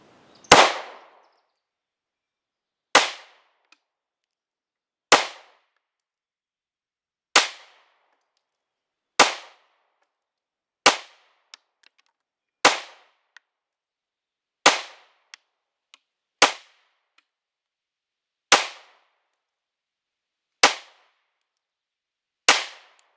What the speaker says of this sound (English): back to the Polymer 80 with the Brownell slide without the comp. We're going to shoot center mass target.